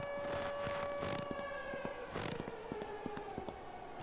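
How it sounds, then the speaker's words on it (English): A siren wails in the video game Boris the Rocket, a steady rising tone heard faintly at a distance, with scattered ticking and buzzing game sounds around it. "The bear gets agitated when he hears the siren, Chad."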